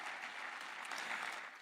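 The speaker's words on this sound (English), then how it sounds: "Give yourselves a round of applause." Faint, distant applause from a crowd at a public address in Philadelphia, a steady wash of clapping over its whole length with no speech.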